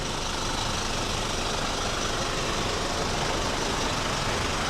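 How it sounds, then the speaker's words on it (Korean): A portable generator runs inside a used food truck at night, giving a steady, loud, unbroken engine drone with a constant low rumble from start to finish and no voices. "지금 매장에서 3실에서 발전기 꺼내가지고 일단 끼워 넣어가지고 발전기 켰고요"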